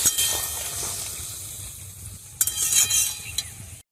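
Flat beans being stirred in a pan, with soft scraping and clinking of a utensil against the metal over a steady background hiss, getting busier and louder in the second half.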